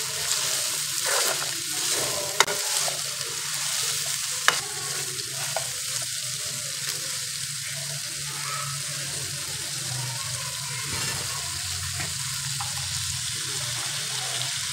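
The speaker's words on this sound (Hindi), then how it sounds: "देखिए मीडियम फ्लेम पे इसे 5 से 7 मिनट लगेंगे फ्राई होने में" Green chillies fry in oil over a medium flame, giving a continuous bubbling sizzle with steady stirring and scraping, plus a couple of sharp utensil clicks, close and unbroken by speech.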